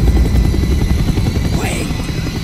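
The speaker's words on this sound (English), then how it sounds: "The chopper is coming around again." A helicopter in Call of Duty: Black Ops thumps with a loud, steady rotor chop close by, holding continuously with a brief high whine near the end, under some voices.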